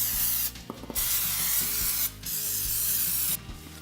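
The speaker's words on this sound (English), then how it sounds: "I'm going to grease the ramekins with non-stick cooking spray" Non-stick cooking spray greasing ramekins for a vermicelli pudding, three loud, close aerosol hisses, each lasting about a second or more with brief pauses between, and faint knocks and clinks underneath.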